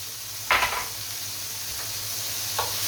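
Garlic cloves searing in a hot pan with a steady soft sizzle, broken by a few brief scraping stirs; no voices.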